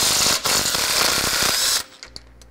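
A power tool with a 13 millimeter socket whirs loudly on a bolt while fitting a rear anti-sway bar to a 2016 Ford E-Series van, then cuts off, leaving a couple of faint clicks.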